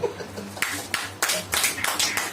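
Members of a church congregation clap their hands during a sermon, a close, sharp burst of rhythmic clapping with distinct beats over a steady background hum.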